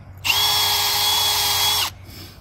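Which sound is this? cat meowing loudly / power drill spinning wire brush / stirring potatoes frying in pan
power drill spinning wire brush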